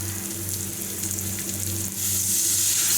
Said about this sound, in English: Now we'll add a little bit of water,